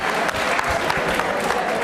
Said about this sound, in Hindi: प्रीति चौधरी के लिए तालियां बजाइए जोरों से, जोरों से तालियां बजाइए